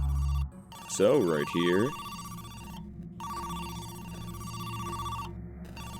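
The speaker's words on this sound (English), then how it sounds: "Answer the phone." A telephone rings steadily in the game Who's Lila, a repeating electronic tone running through most of the moment, with a short spoken remark near the start.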